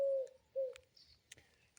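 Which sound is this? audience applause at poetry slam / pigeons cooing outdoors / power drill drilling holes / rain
pigeons cooing outdoors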